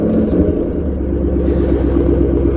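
A Shelby GT500 Mustang fitted with Borla S-type axle-back exhausts gives off a loud, deep, continuous engine rumble close by, with a slight whirring clatter on top.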